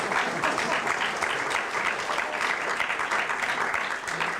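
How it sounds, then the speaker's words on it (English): Audience at a brass concert claps loudly and steadily, dense applause from a full crowd filling the room without pause. "she needs a round of applause for putting up with me"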